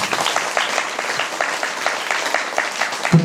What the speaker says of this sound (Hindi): प्रभु के लिए एक बार और तालियां बजाएं।